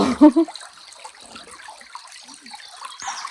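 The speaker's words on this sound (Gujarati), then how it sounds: "પાણીનો એટલો ખડખડ અવાજ છે" Water gurgles and flows softly and steadily at a natural spot in Danta, Banaskantha, heard close by at a low level after a brief louder sound at the start.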